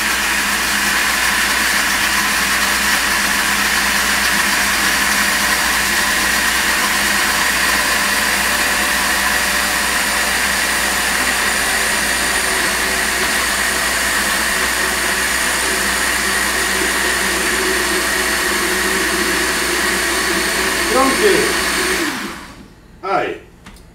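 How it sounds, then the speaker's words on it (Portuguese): A blender runs at low speed, beating rouille sauce while oil is drizzled in. It makes a loud, steady whirring drone for over twenty seconds, then winds down and stops. "Você vai fechar bem e vai bater em temperatura baixa, em velocidade baixa, e vai pondo o óleo de fio"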